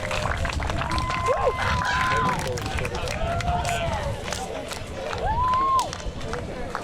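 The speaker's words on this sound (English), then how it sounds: "Eddie Wade wants this crowd to get loud, and they showed out in numbers today." Crowd at a wheelchair football tournament game cheers and roars steadily in a large venue, with a whistle-like tone rising over the sustained noise and general chatter.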